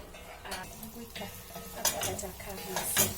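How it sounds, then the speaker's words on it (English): Eggplant being stirred as it browns in a pot for a Chinese dish, a steady scraping and clinking of the utensil against the pot over a soft sizzle, close and continuous with a few louder strokes. "So you keep stirring, you stir and stir as you keep watching for it as it browns"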